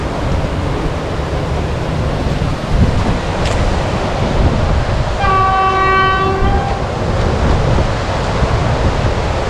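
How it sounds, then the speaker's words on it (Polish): A train rumbles past close by with a loud, steady roar, seen from an abandoned industrial site, and its horn blares once in a sustained tone midway through. "Pociąg jedzie! Pociąg."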